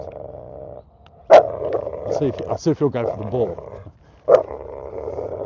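A dog growls while tugging on a rope in a playful battle with its owner, a steady low rumble running beneath a voice talking, with a couple of sharp bursts.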